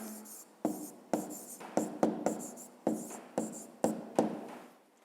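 A pen scratches a maths solution onto paper in short, separate strokes with small gaps between them, close and quiet, with no voice.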